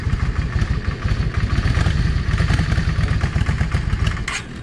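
A Yamaha 650 V Star motorcycle with a drilled, modified exhaust idles close by, giving a loud, steady, rapidly pulsing rumble with no voices over it.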